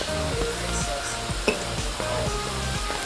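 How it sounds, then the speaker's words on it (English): Salted fish dumplings fry in a pot of oil over a medium flame, giving a steady close sizzle with faint irregular crackles and a few light knocks. "I fry my dumplings on medium flame"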